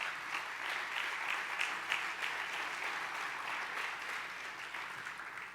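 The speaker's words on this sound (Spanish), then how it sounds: "Dale un buen aplauso a mi Jesús" Congregation clapping during a church sermon, a steady wash of applause that stays fairly soft and distant and slowly tapers off over several seconds.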